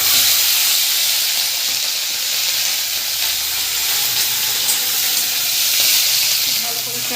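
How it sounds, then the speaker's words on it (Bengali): Capsicum and onion fry in a pan, a loud continuous sizzle and hiss with faint stirring underneath, steady throughout. "ভালো করে ফ্রাইটা করে দিতে হবে।"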